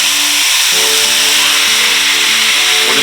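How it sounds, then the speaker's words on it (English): Venison searing in melted butter in a hot pan, a loud constant sizzle and hiss throughout, close up, with no talk. "We're just going to sear it."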